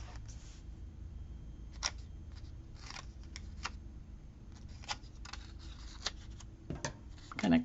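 Scissors cutting out a paper sticker for a planner, a series of soft snips and clicks spaced irregularly, close and quiet with no talk.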